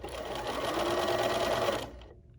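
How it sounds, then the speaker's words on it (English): A BERNINA sewing machine stitches satin stitches in a steady rapid hum and patter up close for about two seconds before stopping abruptly. "I'm going to lift my presser foot and turn slightly, and I'm going to do a few more stitches"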